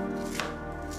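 A knife chops fruit on a board for a hibiscus (sobolo/zobo) drink, giving one short close cut inside a dense, steady kitchen background.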